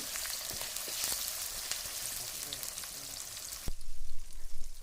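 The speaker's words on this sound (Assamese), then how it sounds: "ইয়াতে পিঁয়াজ, গোটা নহৰু এইটো অলপ টাইম ফ্ৰাই কৰিব লাগিব" Onion and whole garlic sizzle and fry in hot oil in a wok, a steady close crackle with a sharp clatter near the end as the pan is handled.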